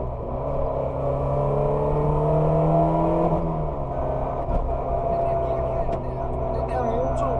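Ford Puma rally car engine running steadily at close range, a sustained droning hum with a pitch that rises and then drops, continuous throughout with no pauses.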